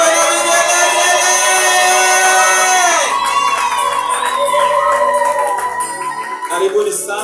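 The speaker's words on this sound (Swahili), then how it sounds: "tumshangilie Bwana makofi ya juu. Shangwe na vigelegele." A church congregation raises a loud, sustained wave of cheering, high ululation and whoops, with excited voices and some clapping underneath that thins out toward the end.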